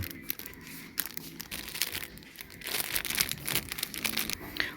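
A plastic bag being pulled off packaging for children's hair accessories, with continuous close crinkling and crackling that grows busier and louder toward the end, with no talk.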